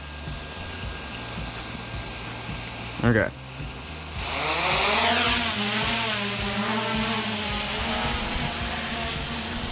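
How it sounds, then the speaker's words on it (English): A steady high-pitched whirring of a Force1 F100 Ghost brushless drone's small propellers spins up and holds loudly, with a brief word spoken before it starts. "Propellers are spinning"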